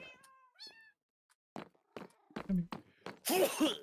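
Minecraft cats meowing in the game, several clear, close meows in the opening second followed by a gap, then later mews mixed with people speaking and a cough.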